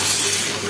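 Frozen tomato sauce hits a hot cooking pan with a brief, loud, continuous sizzling hiss.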